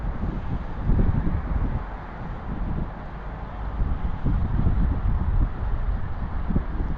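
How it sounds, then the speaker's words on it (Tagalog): Strong wind buffets the microphone in a continuous low roar, gusting louder and softer without pause. "medyo malakas po ang hangin dito kaya tamang-tama po yung pagtambay natin"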